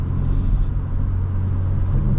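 Steady low road rumble and engine drone from inside a car on the drive home after work, continuous and even with no one talking.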